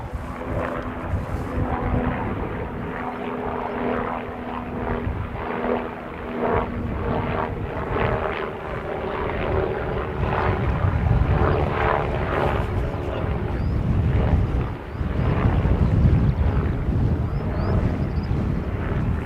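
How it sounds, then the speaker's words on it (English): Steady droning helicopter engine noise with a rotor thrum stays loud and continuous, swelling slightly as it passes close overhead. "So we definitely got a helicopter now."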